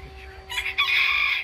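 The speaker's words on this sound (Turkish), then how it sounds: "Wyandotte tavukları" Wyandotte chickens cluck in a backyard garden, and a rooster's crow rises over them partway through, close and fairly loud.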